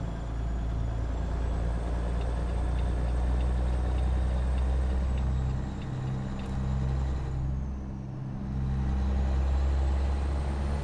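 A truck's engine drones steadily inside a soundproofed cab in American Truck Simulator with realistic mods, a continuous low rumble with a brief dip partway through, and no talking.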